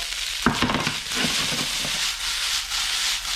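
A stock cube and mixed vegetables fry in a pan for fried rice, giving a steady, close hiss and sizzle with scraping stirring strokes near the start.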